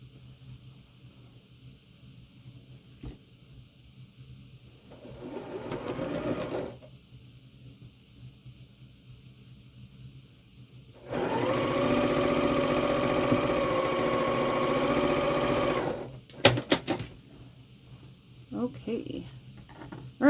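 A sewing machine runs in two bursts while a quilt block is pieced, a short one and then a longer, steady stretch of stitching, with someone talking softly before and after.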